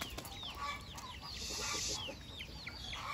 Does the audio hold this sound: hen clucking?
yes